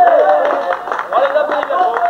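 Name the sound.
audience applause for triathlon finishers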